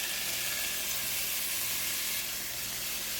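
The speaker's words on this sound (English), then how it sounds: "I'm gonna add all of this into the frying pan" Steady, loud sizzling and hissing of onions and tomatoes frying in a hot frying pan, continuous with no talking.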